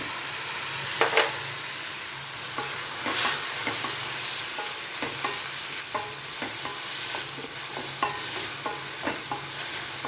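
Chopped onion and tomato frying in oil for an egg roast, stirred with a spoon: a steady soft sizzle with repeated scraping strokes against the pan and no talking.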